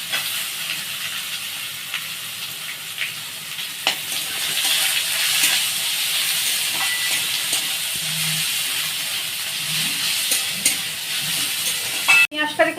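Sliced onions sizzle and crackle steadily in hot oil in a pan for a poppy-seed beans korma, a broad continuous hiss with occasional stirring clicks and a sharp scrape near the end, close and fairly loud with no talking.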